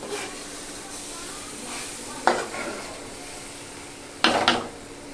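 Soya noodles go into sizzling masala in a pan and are stirred, giving a soft background fry broken by two distinct bursts of scraping and tossing against the pan.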